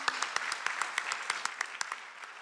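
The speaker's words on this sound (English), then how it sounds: "let's give a round of applause to them as well" An audience at a high school academic awards ceremony applauding, with a steady wash of many hands clapping and a few sharper individual claps standing out throughout.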